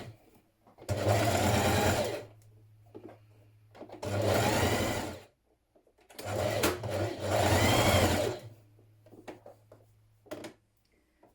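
A sewing machine stitches the side seams of a dress, running in three separate bursts of rapid, even whirring with short quiet gaps between them, close and clear.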